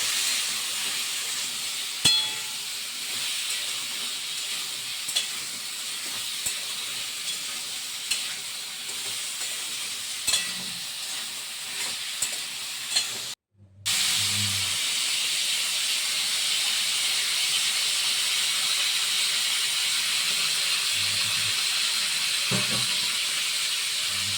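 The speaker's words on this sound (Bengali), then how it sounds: "ভাপিয়ে রাখা আলু নুন দিয়ে ভাপিয়ে রেখে দিয়েছিল সেই আলুটা দিয়ে দিচ্ছে দিয়ে ভাজা ভাজা করে নিচ্ছে" Steamed, salted potatoes sizzle steadily in a frying pan, a loud close hiss with occasional stirring clicks, broken by a brief silence partway through before the sizzling resumes just as strongly.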